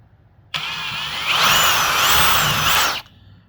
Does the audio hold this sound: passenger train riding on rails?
no